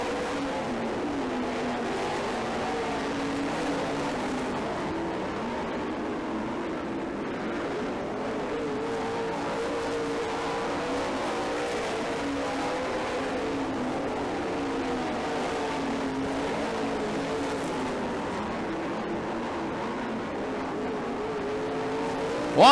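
Race cars circle a short track in the final laps, a steady loud engine drone with rising and falling revs that runs unbroken throughout, with no talk over it.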